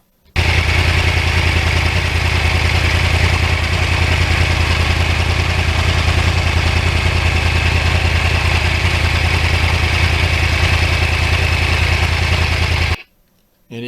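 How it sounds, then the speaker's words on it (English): A Yamaha R1 motorcycle with a crossplane engine runs in a loud, steady drone that holds at an even pitch for a long stretch before cutting off near the end. "the R1 is an exciting motorcycle to ride in any conditions."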